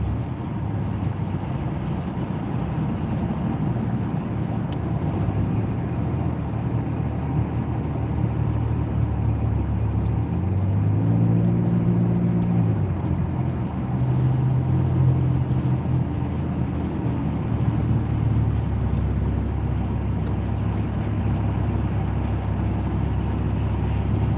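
A car travels at speed on a highway, giving a steady, close road and engine drone that swells slightly midway and carries on with no talking.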